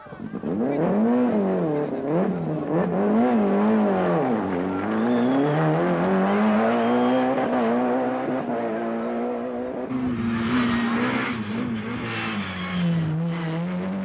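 Rally cars racing flat out on a stage of the 1996 Rally Canarias, engines roaring loud and close with shifting pitch as they rev and pass, a sharper rasping burst near the end.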